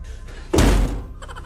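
A person bumps into a door: one heavy thud lands about halfway through, after a quiet stretch, and is followed by a faint rattle.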